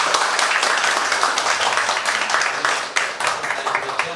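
Dense applause fills a church youth worship service as the congregation claps for the preacher after his sermon, a steady, close wash of hands lasting several seconds without a break.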